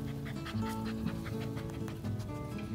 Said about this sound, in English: That's some focus on those border collie puppies.